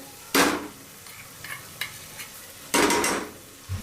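Black masala paste stirred and fried in a pan for Maharashtrian masala bhat, two sharp sizzling scrapes with a few lighter spoon knocks between, close and free of talk.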